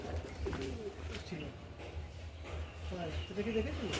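Kalanka pigeons coo in a cage, soft rolling calls repeating throughout at close range over a steady low hum.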